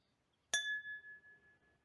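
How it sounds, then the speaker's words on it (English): A drinking glass is struck once, giving a sharp clink followed by a clear, sustained ringing tone that slowly fades in a quiet room. "This is the sound of the glass"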